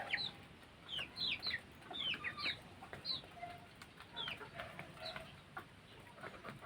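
Native chickens cluck and chirp repeatedly in short bursts, faint and somewhat distant, over a soft outdoor background.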